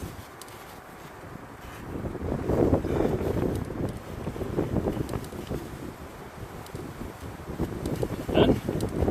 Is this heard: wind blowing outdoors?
yes